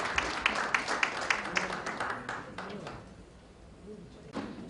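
Scattered applause at a horse industry association officers' inauguration ceremony, a handful of distinct claps at first that quickly fade into quiet room sound, with a faint thump near the end.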